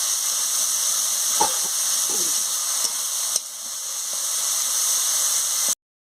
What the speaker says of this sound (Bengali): আমি মশলার সঙ্গে আলু দিয়ে কেমন কষাচ্ছি